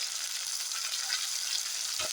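Onions sautéing in a pan for kendai fish curry, a short burst of close, steady hissing sizzle with a slight stir near the end and no voice.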